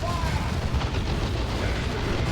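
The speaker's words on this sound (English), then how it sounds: "Then they eat a plasma cannon shot." A plasma cannon shot in Warhammer 40,000: Dawn of War 2 during a 3v3 battle, a heavy booming blast within dense rumbling battle noise, with a voice talking over it.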